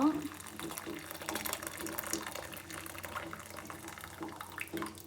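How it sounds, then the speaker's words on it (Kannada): Cooking water is drained off cooked ingredients, a soft running pour of liquid nearby at low level, while a voice talks over part of it. "ಈ ನೀರನ್ನ ಸಪ್ರೇಟ್ ಮಾಡ್ಕೊಬೇಕು."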